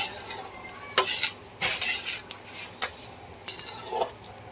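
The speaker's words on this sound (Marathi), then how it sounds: "सगळ्यांना तूप लागेपर्यंत आपण मोठा गॅस ठेवायचा आहे" Moong dal roasts in ghee in a pan, with a soft background sizzle broken by several sharp spoon-scraping stirring strokes at an uneven pace, up close.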